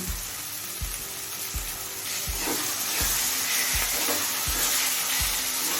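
Chicken mince fries in spiced masala with a strong, steady sizzle and a regular series of dull knocks from stirring, about one every half second.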